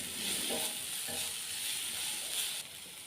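Chili, pepper and spice powders frying in a pan for a cauliflower masala curry, a steady bright sizzle with a few soft stirring scrapes, close and moderately quiet.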